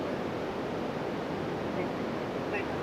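Khoiyachora waterfall in the monsoon, a steady broadband roar of rushing water that fills the whole scene without pause, heard from fairly close.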